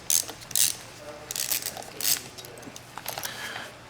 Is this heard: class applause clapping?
no